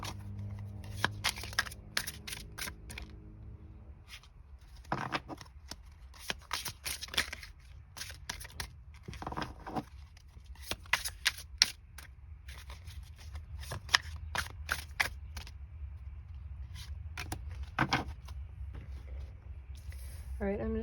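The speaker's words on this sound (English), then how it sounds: "I'm just going to shuffle the tarot deck for you guys." A tarot card deck is shuffled in repeated bursts of crisp riffling and flicking, close and clear, with short pauses between passes and occasional soft background voice.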